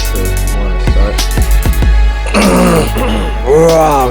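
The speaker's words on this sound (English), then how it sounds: "We should start all of our things with coughs." Throat clearing and coughing at the start of a podcast recording, several sharp close bursts in quick succession with brief voiced sounds, under a steady low background hum.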